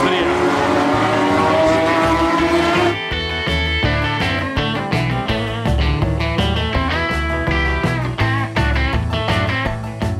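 Classic racing cars with high-revving, naturally aspirated engines at the Goodwood Revival 2023, roaring loudly and close, with a constant blare of engine noise and overlapping revving.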